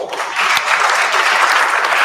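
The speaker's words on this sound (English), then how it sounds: "Please give them all a round of applause." Steady round of applause from an audience at a women's leadership academy event, dense and fairly loud, holding evenly for about two seconds.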